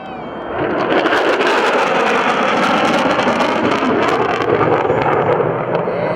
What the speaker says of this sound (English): he's going to go to burner right here at center field